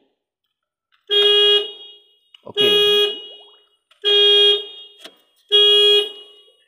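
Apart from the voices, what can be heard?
car alarm sounding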